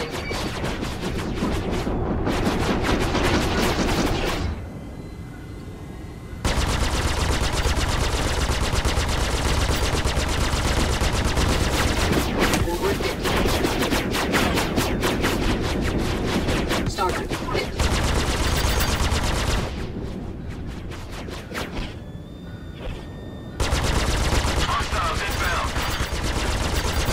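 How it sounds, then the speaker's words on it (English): Incoming weapons fire in Star Citizen space combat, loud rapid bursts of automatic gunfire hammering in long sustained volleys, broken by two brief lulls of quieter engine hum before the barrage resumes. "Shields charging. Taking fire!"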